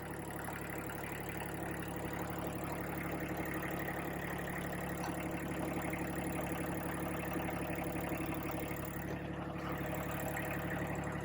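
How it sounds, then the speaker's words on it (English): A tractor with a concrete bucket ballast hung on it, its engine labouring under the load, gives a steady droning rumble that holds near and constant throughout, with no talk over it. "You're going to hear the tractor struggle."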